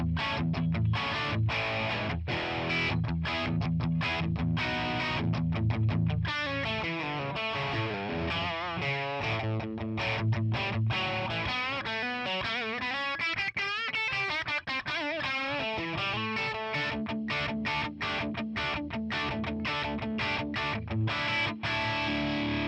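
A Les Paul electric guitar plays a distorted lead through a Tonex One boutique amp model with a noise gate, giving sustained, singing notes and fast runs that continue steadily and loudly for the whole stretch, with no talking.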